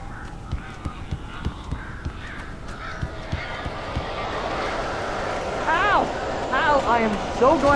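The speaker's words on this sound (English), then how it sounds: "These birds are weird." Crows caw in the Alan Wake video game, a run of harsh, rising-and-falling calls gathering in the second half over a busy noisy backdrop, with steady thudding footsteps early on and a voice speaking.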